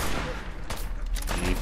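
Gunfire in the game Fallout 4: a couple of sharp cracks stand out against a dense, continuous backdrop of in-game noise, with no talking.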